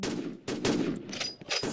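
Rapid bursts of gunfire in a Roblox first-person shooter, several loud close shots in quick succession with brief gaps between them and no talk.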